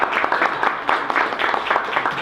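A round of applause from a small audience at an evening book event at Malvern Books, steady dense clapping at moderate volume for a couple of seconds.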